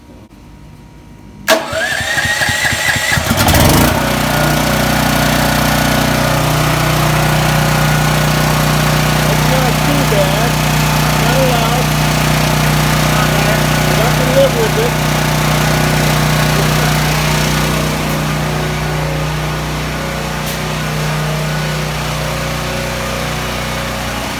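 A Champion 10,000 watt dual fuel generator cranks and catches, then settles into a steady, loud, continuous engine drone that runs on close by, with a brief voice heard briefly near the start.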